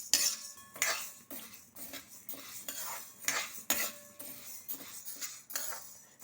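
Toor dal slow-roasting in a pan over a low flame, stirred with a metal utensil: repeated close scraping and clinking strokes against the pan at an irregular, unhurried rhythm, with no voices.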